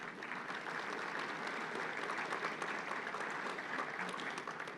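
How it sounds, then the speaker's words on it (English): A luncheon crowd at a chamber of commerce meeting applauds steadily throughout, a soft, somewhat distant wash of many hands clapping with no speech over it. "If we could give all of them a big round of applause,"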